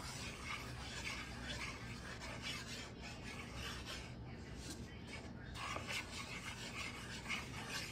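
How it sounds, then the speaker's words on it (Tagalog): Flour being stirred constantly in a pan over slow heat while it toasts for homemade polvoron, a steady close scraping and rasping that runs without pause throughout. "We purpose of stir it constantly so that our flour is not burnt"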